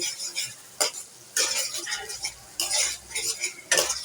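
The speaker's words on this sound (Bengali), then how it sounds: "একটু ধনিয়া গুঁড়া মরিচ গুঁড়া এটাকে একটু ভালো করে মিশিয়ে নিচ্ছি" Beef for biryani frying with cardamom, bay leaf, coriander powder and chili powder as a spatula stirs it: four loud scraping sweeps over a softer sizzle, with pauses between them.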